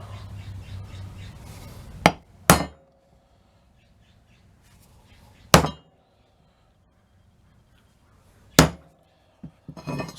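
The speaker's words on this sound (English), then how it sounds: "Now we take an awl and a ball peen hammer." A ball peen hammer strikes an awl to stake metal on a truck's front bed mount, four sharp, loud, isolated metallic raps spaced a few seconds apart in an otherwise quiet workshop.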